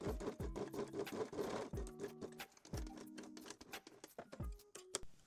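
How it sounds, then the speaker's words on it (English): A sewing machine stitches a bikini top strap, running in several short bursts with brief pauses between them, near and fairly quiet, alone. "I will also stitch the second strap once more to make sure it's really secured in a place."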